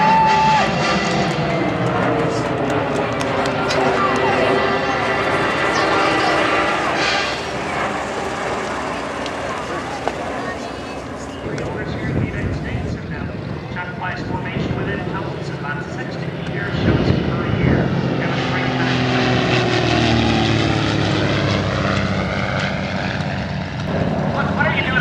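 A B-2 stealth bomber flies over the 2011 Manitowoc airshow, a loud, sustained engine roar swelling and shifting in pitch as it passes, with a voice talking over it.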